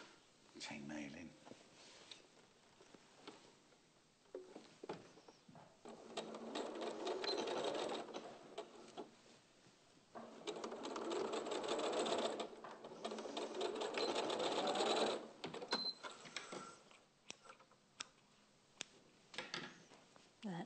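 A sewing machine chain-pieces fabric in several long runs of rapid, even stitching broken by brief pauses and clicks, close and clear, with people talking at times between the runs.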